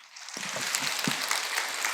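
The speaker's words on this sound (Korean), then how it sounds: "총무원장 진욱훈 스님께 뜨거운 감사의 박수 다시 한번 보내주시기 바랍니다" Audience applause at a Buddhist dharma service, a steady wash of clapping from a gathered crowd that swells quickly and holds at moderate loudness throughout.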